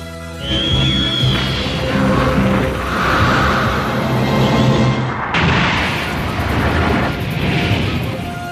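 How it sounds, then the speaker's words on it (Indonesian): A huge energy-blast explosion from a Dragon Ball animation, with Piccolo firing at Cell, makes a sustained roaring boom. The rumble swells and churns for several seconds and breaks off sharply partway through before the roar resumes. "Piccolo segera menembakkannya ke arah Cell yang mengakibatkan ledakan yang sangat dahsyat di tempat itu."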